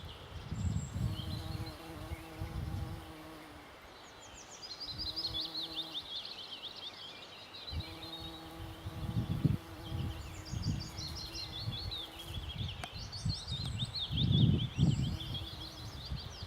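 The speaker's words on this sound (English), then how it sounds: "the big bumblebee hovering these gorse flowers" A large bumblebee hovers at gorse flowers in a quiet valley in May, giving a low droning buzz that swells and fades in bursts close by. Birdsong chirps and twitters lightly in the background.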